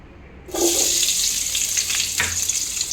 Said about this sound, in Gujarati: હવે આપણે એ જ તેલમાં વઘાર કરવાનો છે. તો આપણે એમાં ડુંગળી એડ કરશું